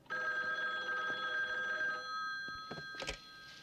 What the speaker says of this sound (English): Ringing now